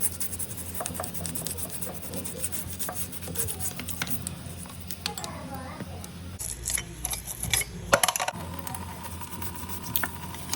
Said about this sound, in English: next you are going to use your toothbrush to clean around the faucets and behind the backsplash